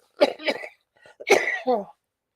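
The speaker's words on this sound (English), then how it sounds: "I apologize for the coughing." Two quick pairs of close, throaty coughs separated by a brief pause, loud against a silent background.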